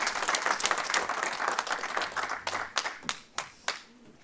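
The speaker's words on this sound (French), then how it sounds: "on peut les applaudir" A church congregation at a family service applauds children with brisk clapping that starts full and dense, then thins into a few scattered, distinct claps before fading out.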